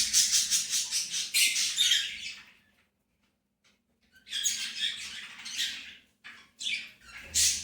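Caged birds chirp and squawk in dense, rapid bursts, pausing into near silence before breaking out again, lively and close.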